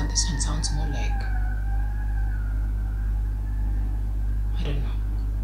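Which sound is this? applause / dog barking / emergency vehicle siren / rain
emergency vehicle siren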